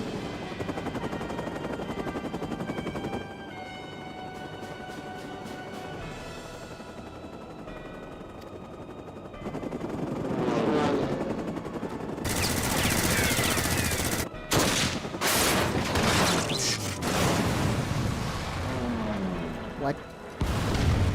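Rapid bursts of gunblade gunfire in Final Fantasy XIV, dense and loud over a continuous game soundscape, with music and layered effects building toward the end.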